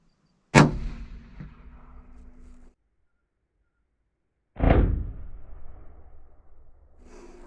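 A rifle fired at a deer while hunting in Brackettville, Texas: one sharp, loud crack with a short ringing tail, then after a few seconds of silence a second heavy boom that rumbles and fades out.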